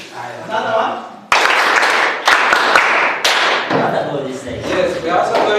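People at a school debate clap for the winning students, giving a few bursts of hand claps and taps mixed with loud talking and voices throughout.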